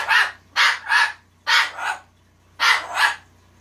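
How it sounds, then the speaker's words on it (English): A dog barks in quick pairs of sharp, close woofs, three double barks in a row separated by short pauses, with no talking over them. "Who are you barking at?"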